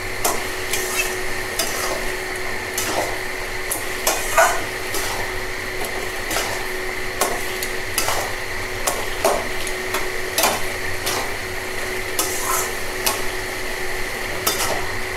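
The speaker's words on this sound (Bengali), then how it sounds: "দিয়ে সমস্ত মশলাগুলো আমি লাউয়ের সঙ্গে মিশিয়ে দেব।" Spices get stirred into bottle gourd and prawns in a pan, with rhythmic scraping and knocking of a spatula over a continuous gentle sizzle.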